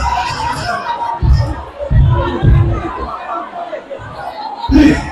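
A noisy crowd of students murmurs and calls out at a university policy debate, with louder bursts of chatter and cheering rising and falling over a steady babble.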